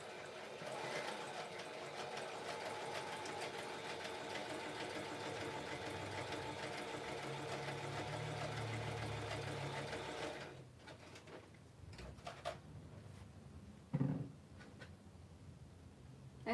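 A sewing machine runs steadily at close range for about ten seconds as fabric is stitched, then drops to quieter, intermittent hand-turned clicks and a few short thumps near the end.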